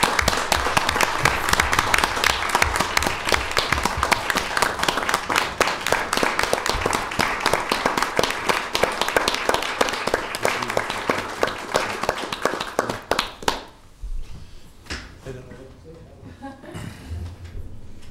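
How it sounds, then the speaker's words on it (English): An audience at a county board meeting claps in a loud, sustained round that runs for about thirteen seconds before stopping abruptly. A few scattered claps and faint room noise follow. "if you join me in a round of applause"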